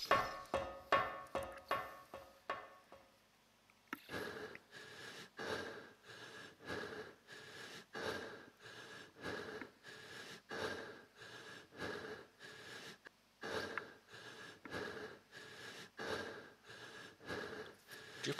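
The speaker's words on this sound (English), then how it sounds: "Please stop panting. It's a bit annoying." A video game character in Subterrain pants heavily and rhythmically, with close, regular breathy bursts running throughout, briefly interrupted by a short quieter gap early on.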